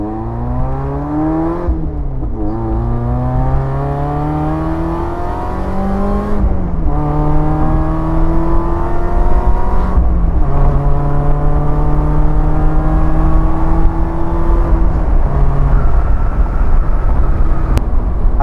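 A supercharged Mazda MX-5 driving through Lytle Creek, its engine revving through repeated gear shifts, rising and dropping in pitch, loud and close, with no talking.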